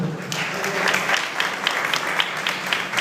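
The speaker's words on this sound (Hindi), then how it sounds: "तालियां बजाइए" Sustained applause from a church audience fills the space as a dense, steady wash of many hands clapping at once, moderately loud and continuous throughout.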